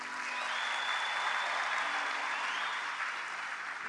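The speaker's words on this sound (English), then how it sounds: "let's clap for God." A youth conference audience claps steadily for about four seconds, a dense, even roar of many hands filling the hall with no one speaking over it.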